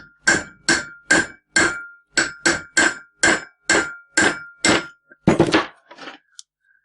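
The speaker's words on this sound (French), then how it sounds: "je vais le faire au marteau, avec une grosse douille qui prend sur la bague intérieure du roulement du côté cardan" A hammer drives a wheel bearing onto a hub carrier through a large socket resting on the inner race, on the front axle of a Renault 4L: about a dozen loud, evenly spaced metallic strikes close by, ending in a quick scraping rattle.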